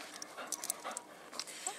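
A dog at an animal shelter pants close by in quick, rhythmic breaths, a steady soft huffing with a few sharper catches, heard on its own without speech.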